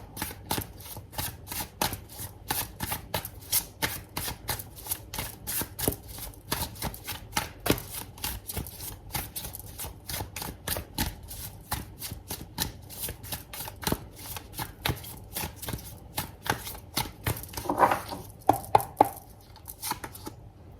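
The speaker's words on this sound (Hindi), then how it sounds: "तो यहाँ पे अब मैं पहले शफल करके सारे कार्ड्स निकालूंगी" A deck of tarot cards is shuffled in rapid, crisp riffles and slaps, a long run of close, sharp clicks in an uneven rhythm with no talking.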